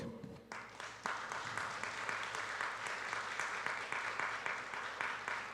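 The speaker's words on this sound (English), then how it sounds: "So please give applause to Jörg." A keynote audience at Taipei Blockchain Week 2025 claps steadily for several seconds, a dense, even patter of many hands at moderate volume, beginning with a short quieter lead-in.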